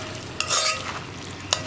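Beef and koorkka masala with fennel powder being stirred in a pan, soft scraping and a faint sizzle, with two sharp spoon clinks against the vessel.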